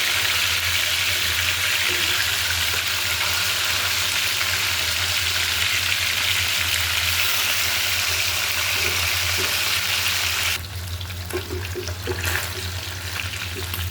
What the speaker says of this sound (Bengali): মাছটা কেটে সুন্দর করে ভেজে নিই।